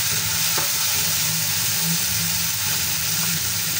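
Chopped Chinese celery (kinchay) sizzles steadily in a hot frying pan for a home-cooked picadillo and torta, with a constant loud crackle and occasional light stirring clinks, no voices.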